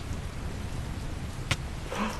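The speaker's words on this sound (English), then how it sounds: "By noon, Alhain was underneath a massive thunderstorm." Steady rain from a thunderstorm in Minecraft, a constant wash of noise with a brief sharp crack near the middle and a low rumble toward the end.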